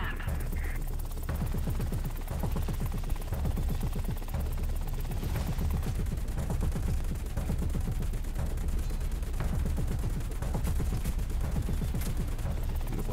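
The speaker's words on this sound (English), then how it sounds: "Machine guns out." Machine guns on a helicopter in War Thunder fire in a long, steady stream of rapid shots, with a constant rotor drone underneath, loud and close throughout.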